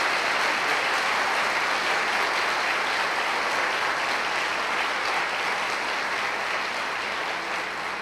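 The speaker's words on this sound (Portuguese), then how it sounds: "você pode aplaudir o Senhor pela vida delas?" A church congregation at a Sunday morning praise and worship service claps together, a dense, loud, continuous wash of many hands that holds steady before easing slightly at the very end.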